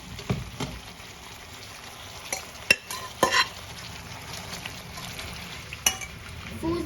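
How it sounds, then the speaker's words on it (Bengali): Conchiglie pasta stirred in a pan over low, steady background noise, with a few sharp scrapes and knocks of a utensil against the pan scattered across the stretch. "পাস্তাগুলো এর মধ্যে দিয়ে দেবো।"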